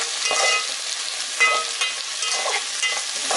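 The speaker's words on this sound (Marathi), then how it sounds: "चांगला परतवून घ्यायचा आहे तेलात." Capsicum and carrot stir-fried in hot oil for chowmein, a steady bright sizzle with repeated spatula scrapes and tosses, close and continuous throughout.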